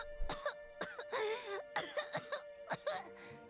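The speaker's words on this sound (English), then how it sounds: "I don't like her coughing" Kachina from Genshin Impact, a video game character, coughing in a fit of several harsh, close coughs and throat-clearing sounds, with short gaps between them.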